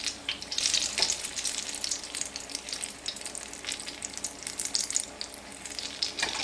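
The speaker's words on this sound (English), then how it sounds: "got to keep an eye on anything you're frying" Apple fritter batter fries in hot oil with a continuous crackling sizzle, bursts of popping and spitting rising and falling at moderate, close volume, with no voices.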